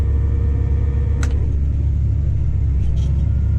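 A 70/40 tractor engine that is blowing out gives a loud, steady low rumble held close throughout, with a brief higher rattle partway through and no talk.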